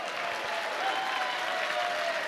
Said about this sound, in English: all the ones that recruit them, y'all stand up and clap for yourself.